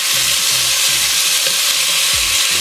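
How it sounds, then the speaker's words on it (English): Oxtail pieces sear in a hot pot for Jamaican oxtail, giving a loud, steady broadband sizzle with small stirring and shifting clinks, no voices. "You see you get that little sear going on?"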